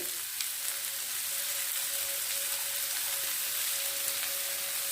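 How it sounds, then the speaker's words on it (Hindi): Green onions sizzle as they join softened onions frying in a pan for a Pashtun-style chaunga vegetable dish, a steady, close crackling hiss of oil that holds evenly throughout with no talking. "अभी हल्की सी प्याज नरम हो गई है, इसमें मैं ये हरी प्याज डाल रही हूँ।"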